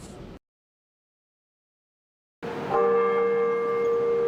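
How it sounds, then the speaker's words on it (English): After a brief silence, a church bell in University Heights strikes loudly and rings on with a sustained, humming tone. "Bells rung out in University Heights Saturday"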